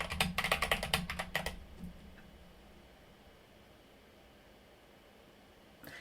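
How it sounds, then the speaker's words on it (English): Typing on a YMDK Wings hotswap keyboard, a quick burst of about a dozen crisp close key clacks over roughly 1.5 seconds, then near silence with faint room noise and one last click at the end. "The keyboard I'm using is a YMDK Wings HOTSWAP board."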